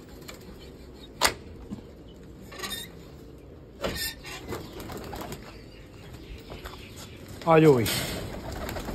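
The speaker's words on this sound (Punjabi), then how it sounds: "ਅਤੇ ਖੋਲ੍ਹ ਦਿੰਦੇ ਆਪਾਂ ਕਬੂਤਰਾਂ ਨੂੰ" Domestic pigeons let out of their coop at home, with sharp bursts of flapping wings and a brief coo near the end, under a voice speaking close by.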